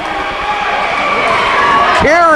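A home crowd of Hornet fans roars and cheers after a shot at a 1999 boys' high school basketball game, Beekmantown against Plattsburgh, a dense, sustained wash of voices filling the gym, with a brief whistle-like tone rising near the end.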